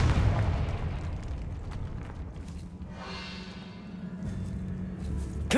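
A Confringo fire spell blast in Hogwarts Legacy starts with a loud, deep boom. Rumbling and crackling debris follow and slowly fade, with a steady low hum beneath and a sharp new impact at the very end, with no voices.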